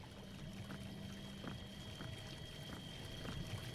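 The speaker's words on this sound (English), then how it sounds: "I think that's the bubbling I've been hearing" Faint, steady bubbling and trickling of liquid in the Eldritch video game, a low watery murmur with soft periodic pops running quietly throughout.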